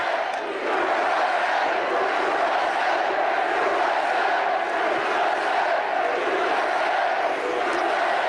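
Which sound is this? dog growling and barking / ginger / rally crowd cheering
rally crowd cheering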